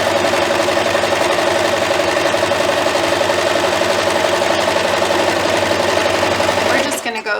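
A sewing machine top stitches fabric to close an opening on a scissor keeper, a steady loud mechanical whirr with fast rhythmic clatter running continuously before stopping abruptly near the end.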